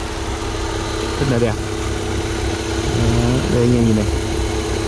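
A 2014 Hyundai i10 with a 1.0 engine idles with a smooth, low, steady hum close by, while someone talks over it.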